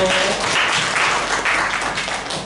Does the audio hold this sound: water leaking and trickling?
no